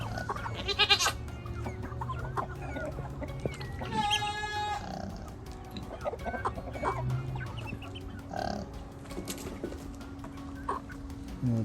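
A duck calls near a pallet-wood chicken coop, with several short harsh calls and a burst of rapid honking among other fowl sounds and low background noise.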